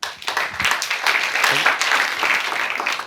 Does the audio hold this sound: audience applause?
yes